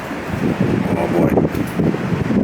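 Strong wind buffets the microphone on the open deck of a cruise ship in northern Europe, making a loud, steady roar with gusty swells and no break for the whole stretch.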